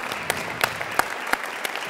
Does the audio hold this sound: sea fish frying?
no